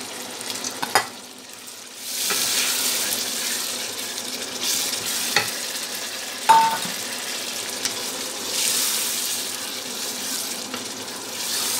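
Gram flour pakoras fry with potatoes in a pan for a besan aloo curry. A steady hiss of sizzling oil swells in waves and is broken by occasional stirring clinks and scrapes, with no talking.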